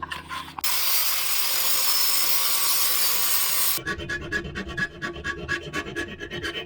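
A metal tab on the throttle cable bracket for dual Weber DCOE carburetors on a TE72 build is cut, a loud steady rasping buzz of a few seconds followed by rapid rhythmic scraping strokes, nearby, no speech.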